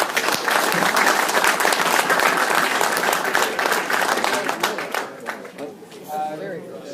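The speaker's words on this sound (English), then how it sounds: "a round of applause" Meeting attendees give a round of applause, a dense burst of clapping that holds strong for several seconds and then thins out to scattered claps and faint chatter at the end.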